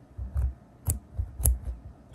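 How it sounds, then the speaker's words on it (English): Scissors snip through white bobbin threads on a machine-embroidered design, giving several sharp, close clicks in an uneven rhythm. No one speaks. "begin cutting the bobbin threads, which are the white ones here. So I'm just snipping through these."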